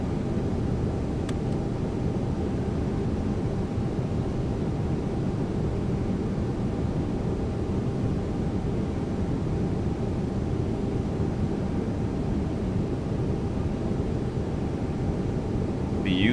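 Airliner jet engines running in X-Plane 12 at Jacksonville, Florida, a steady, even roar holding at one level from start to finish, with no voices over it.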